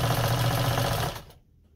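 A Nelco sewing machine stitches a buttonhole with a steady, loud mechanical whir that runs continuously, then winds down and stops near the end.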